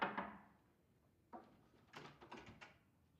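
A door is tried while locked: a knock-like thud at the start, then a series of quiet rattling clunks and handle jiggles, faint and close, with no talking.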